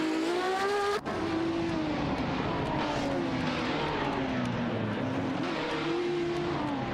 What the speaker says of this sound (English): The Ferrari 512s and the Porsche 917-20 are engaged in a fierce battle for that spot.